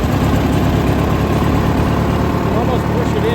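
A new riding lawn mower's small engine idles in a steady, close, low rumble that holds an even throb throughout.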